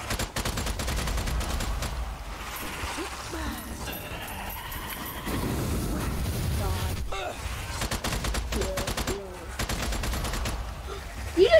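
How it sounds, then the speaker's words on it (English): Repeated gunshots and bursts from a Strange Brigade battle in the Forsaken City, mixed with game sound effects and fire, with people talking over the action. "You just shot somebody's head off!"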